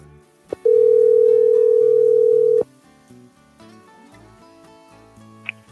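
A steady telephone dial tone sounds for about two seconds while a call is placed, clear and loud. A faint background music bed plays beneath it, and a short electronic blip follows.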